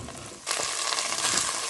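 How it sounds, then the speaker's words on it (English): Peppers stir frying in hot oil with oregano, a quiet pan before a loud, steady sizzle bursts in and keeps crackling close up to the end. "So to this I'll be adding some seasoning and stir frying it."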